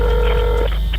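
Telephone call being placed to emergency services, heard as a loud, close electronic tone with a steady pitch that cuts out partway through, over a constant low hum, with no voices.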